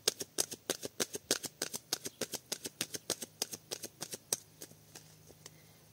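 Tarot cards are riffled in a quick, even run of about twenty crisp flicks close by, the rhythm stopping abruptly near the end and leaving quiet room tone.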